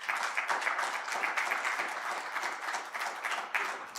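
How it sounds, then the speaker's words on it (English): An audience at a housing research seminar applauds the panelists, fairly close and moderately loud, a brisk, uneven clatter of many hands clapping for a few seconds without speech. "let us just give the panelists a round of applause"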